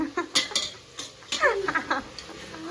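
A utensil stirs and mixes dudhi (bottle gourd) halwa in a pan, giving irregular scraping and clinking strokes, fairly close and moderately quiet.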